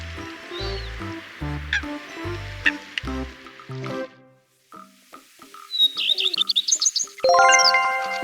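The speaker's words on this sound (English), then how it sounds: "Coot. Coot." Calls of a coot, a water bird, come as short repeated notes over a busy, layered background of other sounds, with a brief gap of quiet midway before a louder run of sharp calls.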